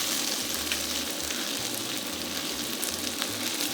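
Salmon pieces sizzle and spit in a hot pan for a stir fry, a steady dense frying hiss that stays close and even for a few seconds with no voices.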